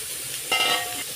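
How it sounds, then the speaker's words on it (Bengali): Soybean chunks and potatoes sizzling in hot oil, a close steady frying hiss with a brief louder burst of crackling partway through. "সয়াবিনটাও ভেজে নেব লাল লাল করে"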